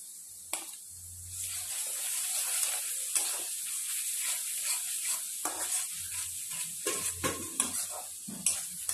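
Ginger paste sizzles in hot oil in a pan while it is stirred, a steady hiss with scraping spoon strokes and irregular clacks, close and fairly loud with no talk.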